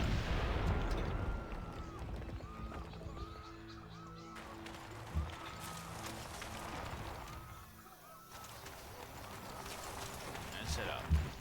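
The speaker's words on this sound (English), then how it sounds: "and now set up and bombard" Artillery bombardment in Civilization V, heard as scattered dull booms and thuds spaced through a low battle ambience, fairly quiet overall, with a voice talking over it.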